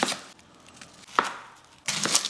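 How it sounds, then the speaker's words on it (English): A knife roughly dices onions on a board, with a few separate chopping bursts spaced out and close by, with no voices. "Rough dice 2 massive onions."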